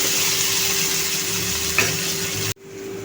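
Potatoes stir-frying in a pan for Marathi-style batata bhaji, a steady broadband sizzle with a brief clink near the end before the sound cuts out abruptly; no talking.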